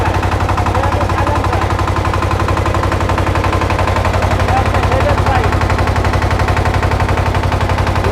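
A new engine from a generator, built in May 2025, running at steady idle, loud and close, with a fast even pulsing chug throughout and no pauses.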